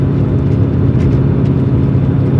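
An LS V8-swapped Porsche 944 with newly fitted power steering drives along, its engine a loud, steady low rumble heard from close by.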